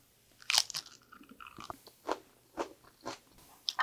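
Raw spring cabbage (bomdong) dressed with seasoning and eaten with rice gives a series of sharp, crisp bites and crunchy chews, close and distinct, about six bursts spaced across several seconds with quiet gaps between.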